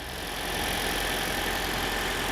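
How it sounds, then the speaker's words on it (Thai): The 1.8 hybrid engine of a 2018 Toyota C-HR idles with a smooth, steady, quiet hum, close by and unchanging. "เครื่องยนต์ถือว่าค่อนข้างเงียบมากนะครับ"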